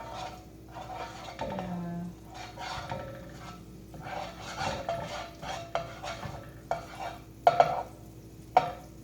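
Food frying in oil in a big pot is stirred over and over, with scraping strokes, soft sizzle and a few sharp utensil clinks against the metal, close by and without talk.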